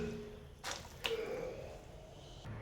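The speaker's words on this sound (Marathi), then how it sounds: "पाणी गरम झालं, त्याच्यामध्ये धुतलेला घेवडा टाकून घ्यायचा आहे." Washed flat beans (ghevda) tipped into a pan of hot water on a gas stove: a soft splash and wet squish, a second sharp plop, then a faint simmering hiss, fairly quiet and close.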